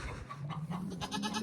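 Goats bleating on a farm, a few quavering nasal cries close by, one after another, with soft background noise and no talking.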